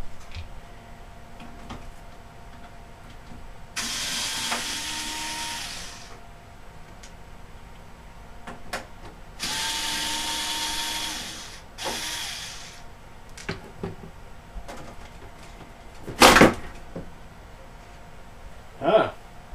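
An ASUS desktop computer case is opened, giving scattered clicks, taps and metallic knocks, two longer scraping slides of the panel, and a louder clatter near the end.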